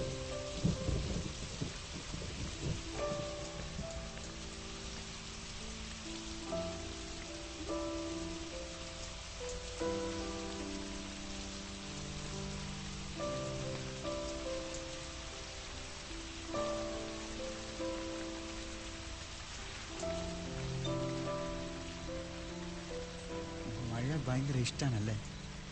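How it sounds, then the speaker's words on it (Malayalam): Heavy rain with rumbling thunder fills a scene from a Malayalam action film, a constant wash running under a sustained music score, with voices briefly at the end. "മഴ."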